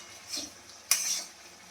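Semolina frying in a pan for a sweet semolina dish, scraped and stirred with metal utensils: a soft scrape near the start, then one sharper clattering stir that trails into a low sizzle, close by and alone.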